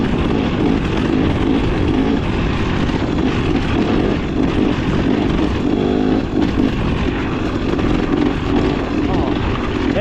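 A new 2025 XCW 300 two-stroke dirt bike runs in first gear at slow speed, its engine a loud, steady drone under a rider's talk.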